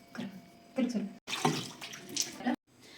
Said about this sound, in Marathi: त्यानंतर हे धुवून काढायचं